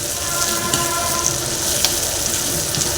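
Green chillies and onions frying for ragi upma, a loud continuous close sizzle with faint crackles and occasional small pops throughout.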